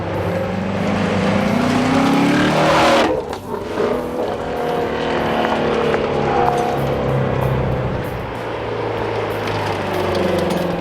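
A 2016 Ford Mustang Shelby GT350R V8 engine, redlining at 8,200 RPM, revs hard and climbs in pitch, then drops and builds again into a sustained, loud roar as the car accelerates.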